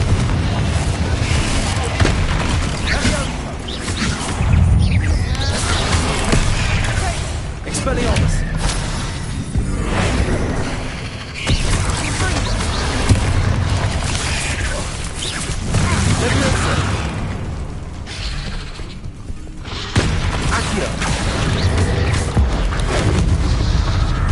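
Explosion spells Bombarda and Confringo cast in a wizarding video game, producing repeated booming blasts and crashes amid continuous busy game noise, with a voice talking over much of it.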